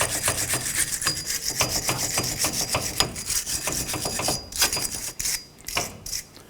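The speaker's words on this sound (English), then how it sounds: "Use your bristle brush. Go ahead and go around the face of this axle hub face and clean this up" A bristle brush scrubs the face of a rear axle hub on a 1997–2006 Jeep Wrangler during brake work, making rapid, raspy back-and-forth strokes that continue steadily at close range with no talking.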